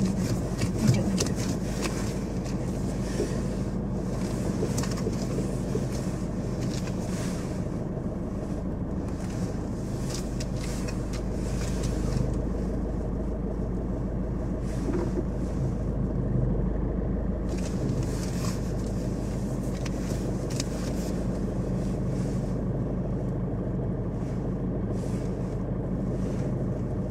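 A car backs up under a steady low engine rumble with faint wind and scattered knocks, close by and continuous, with no voices.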